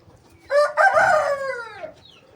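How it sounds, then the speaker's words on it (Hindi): A bantam rooster crows once at close range in the early morning, a loud, rising then slowly falling cock-a-doodle-doo lasting over a second with faint background noise around it. "ये अलार्म जो है सुबह 4 बजे से शुरू हो जाते हैं हमारे मुर्गे, जो बोलना बांग देना शुरू कर देते हैं।"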